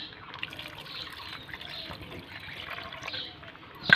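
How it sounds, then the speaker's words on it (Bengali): Water poured into a tamarind mixture with salt and lemon leaves, a soft continuous trickle and splash close by, swelling briefly at the end. "এবার দিয়ে দেবো জল"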